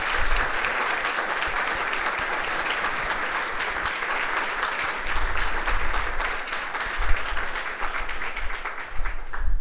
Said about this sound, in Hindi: ऐसे टीचरों के लिए एक बार जोरदार तालियां होनी चाहिए